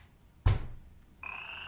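An educational robot frog (NeoBot EDU) plays a single loud croak with a sharp onset, followed by a sustained electronic tone as the robot's sound block continues.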